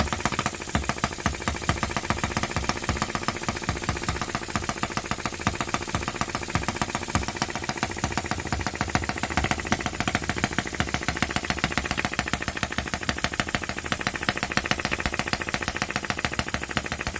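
Vintage Japanese Yanmar gasoline model engine running lean at full throttle, a steady, fast, close mechanical chatter with knocking and slight rattle that holds constant and loud throughout, no voices.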